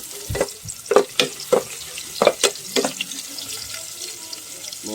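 Garlic and onion sautéing in oil in a pan, with a string of sharp clinks and scrapes from stirring over a soft, steady background hiss, close and fairly quiet.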